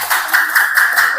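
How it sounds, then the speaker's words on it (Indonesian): Classmates clap for a student after a pantomime performance in a school arts class, a short burst of scattered hand claps with a few distinct slaps, close and fairly loud. "tepuk tangan dulu untuk Dayu"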